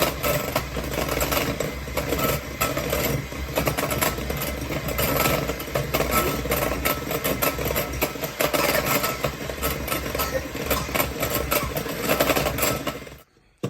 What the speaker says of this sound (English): this mixer goes all the way up